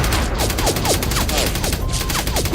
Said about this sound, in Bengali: AK-47 এর গুলিতে তোকে ছাঁচড়া করে দেব।